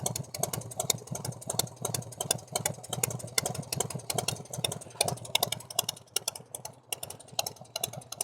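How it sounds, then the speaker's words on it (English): A 1990 Fatboy motorcycle engine fitted with an S&S Super E carburetor idles roughly and close up, with a rapid, steady ticking of valve train noise over a low, uneven rumble. "Maybe use idling a little higher. Can hear some valve train noise."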